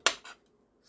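A knife slicing through canned potatoes on a board, two quick close chops, the first sharper and louder, then quiet.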